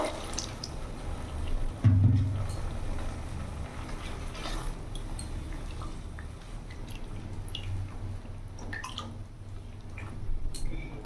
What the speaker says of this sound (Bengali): এবার আমি জল ঢেলে দেবো, বেশি না, আমি হাফ কাপের মতন জল দেবো